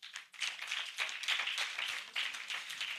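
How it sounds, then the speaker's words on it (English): An audience at a Lagos State pharmacy and scientific week event in 2022 claps in a brisk, continuous burst of applause lasting a few seconds, with no talk over it. "I thought you were going to clap."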